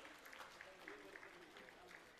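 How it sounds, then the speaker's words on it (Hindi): Applause from a crowd at a government job appointment letter ceremony in Ranchi, a steady patter of clapping held at a faint, distant level with a voice speaking over it. "तालियां जोरदार होती रहें।"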